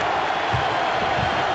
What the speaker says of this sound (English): Boone Pickens Stadium crowd on its feet